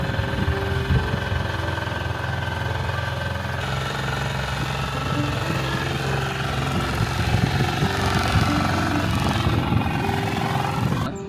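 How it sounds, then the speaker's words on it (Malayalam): An open tourist boat on the backwaters at Kumarakom in Kerala, its engine chugging steadily and loudly at close range with a constant vibrating drone and rushing wind. "ഇതാ ഒരു ഓപ്പൺ ബോട്ട്. ഇതൊരു ഓപ്പൺ ബോട്ടാണ്."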